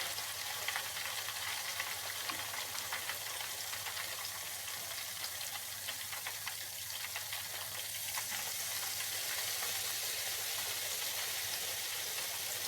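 Ghevar batter poured little by little from a height into hot oil, a dense, continuous frying sizzle with crackling bubbles throughout, close and fairly loud.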